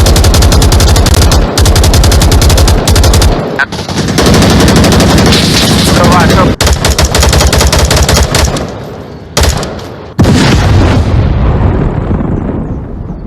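Rapid bursts of loud automatic gunfire from the VR shooter Onward or Contractors on the Oculus Quest 2, dense rattling volleys with brief pauses between strings of shots.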